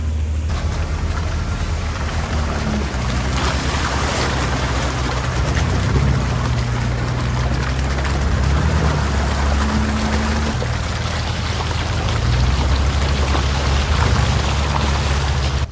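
A Jeep crosses the shallow water of Upper Bad Creek on a trail, its low engine drone running under continuous splashing and pouring water for the whole stretch. Nobody speaks.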